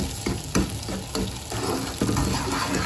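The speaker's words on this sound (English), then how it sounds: "So I'm going to stir this and mix and stir this until it's nice and golden brown" Makhandi halwa being stirred with sugar in a hot pan, a steady sizzling fry broken by repeated scraping strokes of the spoon at an uneven rhythm, close and fairly loud with no talking.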